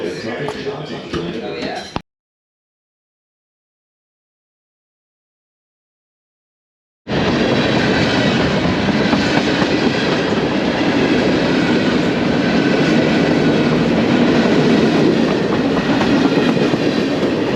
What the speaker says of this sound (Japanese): この貨物列車が今バッファローデビュー駅を通っているんですが、全然終わらないんですよ。